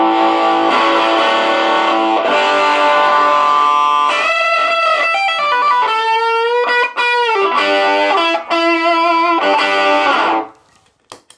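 A loud, heavily overdriven electric guitar through an Electro-Harmonix Soul Food pedal with gain maxed and extra treble plays sustained chords and ringing bent notes, thick and saturated, then cuts off abruptly at the end.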